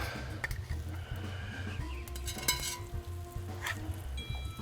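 Crab cakes frying in hot oil in a Yeti cast iron pan give a steady, close sizzle and crackle, with a few sharper pops and scraping stirs along the way.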